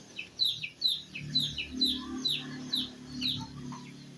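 Several chickens, wet after overnight rain, cluck and chirp repeatedly for food early in the morning at a moderate distance, with a low steady hum underneath.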